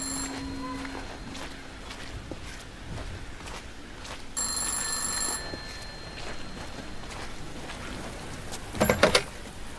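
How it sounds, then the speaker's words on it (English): A video game telephone rings in several bursts of bright electronic trilling, moderately loud against a quiet background, with other faint game sounds between the rings. "I hear a phone."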